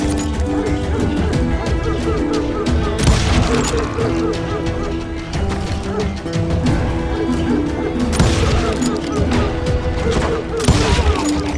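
Sustained gunfire in the Western shooter Call of Juarez: Gunslinger, a dense fusillade of shots and crashing impacts running throughout over a game soundtrack, with brief voice callouts mixed in.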